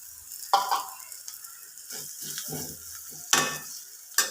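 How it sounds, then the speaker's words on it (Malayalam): Chilli powder and garam masala being sautéed on a low flame for a potato masala curry, a gentle sizzle with a few loud spoon-against-pan scrapes and clinks, close by and without speech. "ഒരു സ്പൂണ് മുളക് പൊടി ഇട്ട് കൊടുക്കും ചെറുതിരിയിൽ ഒന്ന് വഴറ്റുക"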